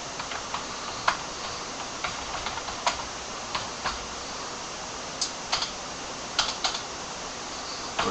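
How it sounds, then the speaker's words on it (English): Someone types a command on a computer keyboard with a run of light, close key clicks spread across the stretch, irregular in rhythm, over a steady fan-like hiss. "So we type in our show running config command."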